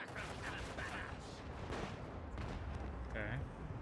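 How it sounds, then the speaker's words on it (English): A macro cannon barrage booms in the Rogue Trader video game, a dense roll of overlapping blasts and rumbles under a continuous din, with brief tonal calls cutting through. "Initiates macro cannon barrage."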